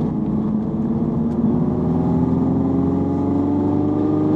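Honda car driving on a race circuit, its engine a steady, loud, close drone with pitch slowly climbing as it accelerates, recorded on board with no talking.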